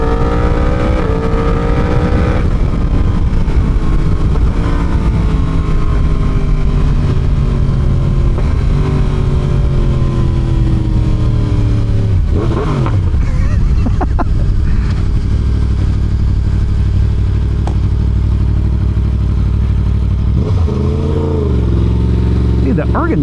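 A Yamaha R1 motorcycle is ridden hard, its engine loud and close, with rising and falling revs as it pulls through gear changes. Wind roars against the microphone, and a rider talks over the engine at times.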